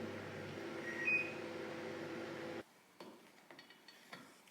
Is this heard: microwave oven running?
yes